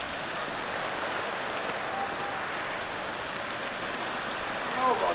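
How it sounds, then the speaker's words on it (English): Heavy rain pours in sheets over an outdoor high school boys' lacrosse field, a dense, steady hiss of drops that holds throughout with only a faint stir of crowd or voices near the end. "Rain coming down in sheets."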